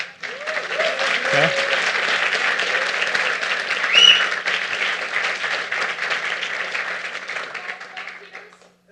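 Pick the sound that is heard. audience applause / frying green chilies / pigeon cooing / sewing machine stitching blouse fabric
audience applause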